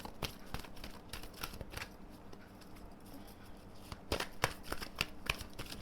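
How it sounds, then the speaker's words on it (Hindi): A deck of tarot cards is shuffled and drawn close by, a run of soft papery riffles and slaps with a quick cluster of snaps near the end, no talking. "चलो एक और डेक से हम कार्ड्स निकाल लेते हैं"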